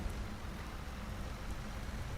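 Steady rain falls in a Farming Simulator 19 thunderstorm on a farm map, a dense even hiss of downpour with no letup and no voices.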